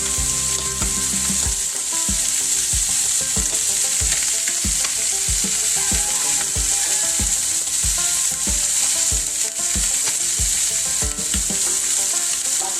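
Chicken adobo with bay leaf and pepper frying in a pan, under a loud, constant sizzle, with regular stirring strokes knocking and scraping throughout, close by.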